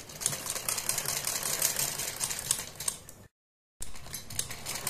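A sewing machine stitches piping onto a sleeve, giving a steady, fast mechanical whirr that runs loud and close, cuts out for about half a second, then starts again.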